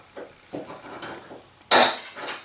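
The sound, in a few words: hammering a center punch to dent a rivet head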